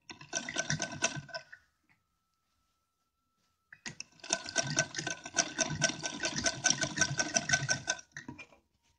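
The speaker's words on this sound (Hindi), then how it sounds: "अब यहाँ भी किनारे किनारे पर सिलाई चला देंगे।" Electric sewing machine stitching lace along the edges of a heavy-work festive dress, running in two bursts, a short one then a longer steady whir after a silent pause, close and clear.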